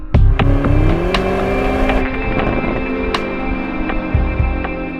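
BMW XM hybrid M car with a 4.4-litre twin-turbo V8, heard driving on the road: engine note rising through gears with a shift partway, steady loud drone, no talking.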